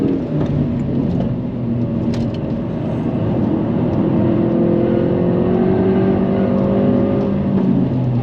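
A Lotus Emira sports car on the Nürburgring, its engine drone and rushing road noise rising and holding steady throughout, close and loud with no talking.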